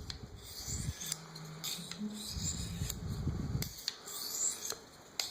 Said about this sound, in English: This is a hard Arkansas stone. It's very good for putting the final touch on your edge.